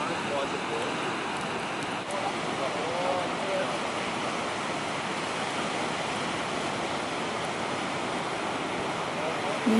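Ocean waves break on an Australian surf beach, a constant loud wash of surf with wind noise hitting the microphone. There is no clear gap in the roar, and a voice talks faintly underneath.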